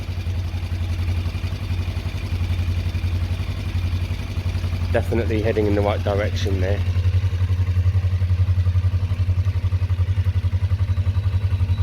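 A custom-painted 2004 Kawasaki ER5 motorcycle engine runs at a steady idle throughout, a low continuous drone close by, with someone talking briefly over it partway through.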